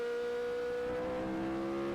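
A 1980s or 1990s Formula 1 car screams at high revs around the Spa circuit, a loud sustained engine whine with rising pitch that never lets up.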